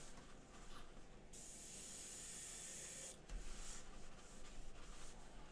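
An airbrush sprays alcohol to clean a miniature-painting work area: a quiet, steady hiss with a brighter burst of spray lasting about two seconds in the middle, all close and faint.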